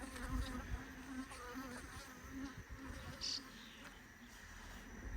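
Honey bees hover right in front of their hive and swarm close around a beekeeper. A faint, continuous buzzing rises and falls as individual bees fly past, with faint wind and handling noise underneath.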